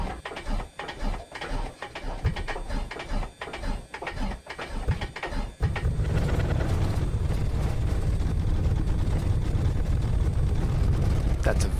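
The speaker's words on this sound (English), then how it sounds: "You can actually hear and feel that engine warming up" A very cold aircraft engine catches after the throttle is cracked: irregular sputtering firing for several seconds, then a loud, steady, even roar settles in and holds, close by, with talk over it.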